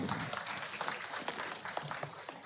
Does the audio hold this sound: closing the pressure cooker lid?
no